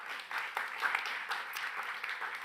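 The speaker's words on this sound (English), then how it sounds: "Let's give her a big round of applause" A conference audience applauds a speaker at a procurement event, moderately loud continuous clapping from a crowd with a few distinct claps rising above it.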